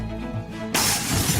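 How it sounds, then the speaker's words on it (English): A fire extinguisher is swung into a supermarket's glass doors, setting off a single loud, sudden shattering crash after a short lead-in, with broken glass spilling and crackling for a moment afterward. "grabs a fire extinguisher, and smashes the supermarket's glass doors."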